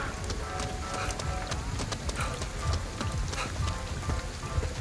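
Steady rain pattering on surfaces in the Ghostwire Tokyo game world, a dense continuous hiss with scattered droplet ticks and a low rumble throughout, no voices.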